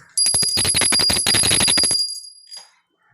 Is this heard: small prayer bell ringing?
yes